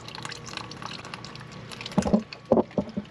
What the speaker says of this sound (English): That is just pure water coming out.